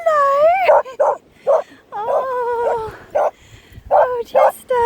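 A hyper puppy on a beach gives a string of short high yips and barks mixed with whining, whimpering cries, close and loud in quick bursts, with a person's voice around it.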